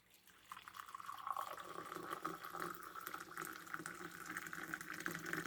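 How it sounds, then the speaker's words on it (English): Coffee pours into a cup, a soft, continuous liquid trickle that starts after a brief quiet moment and keeps running steadily, close and faint. "Pour some coffee."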